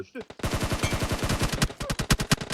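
Rapid automatic gunfire in the mobile battle royale game PUBG Mobile on the Livik map, loud close bursts of fast repeated shots that break into separate cracks toward the end, with a voice briefly heard over it.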